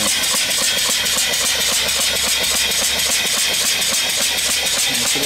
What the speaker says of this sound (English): this unit here has got an engine on it. It's a different style of engine.